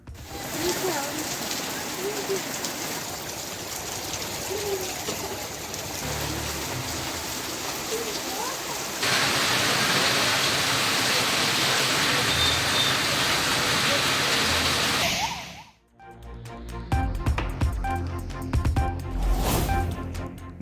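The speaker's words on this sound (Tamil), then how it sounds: "செங்கல்பட்டு, திருவள்ளூர், வந்தவாசி ஆகிய பகுதிகளில் வெளுத்து வாங்கிய கனமழை." Heavy rain pouring down steadily as a dense wash of noise for most of the stretch, growing louder midway, then giving way to other sounds near the end; a voice speaks over it.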